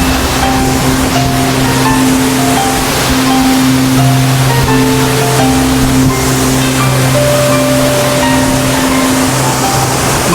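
Waterfall in North Bali, a loud, dense rush of falling water that roars continuously and fills the whole clip, with a low droning tone running beneath it.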